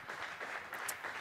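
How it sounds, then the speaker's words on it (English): A crowd applauding at a bowling final, a steady patter of clapping from a modest group, moderately loud and unbroken throughout the short moment. "getting the appreciation from the crowd"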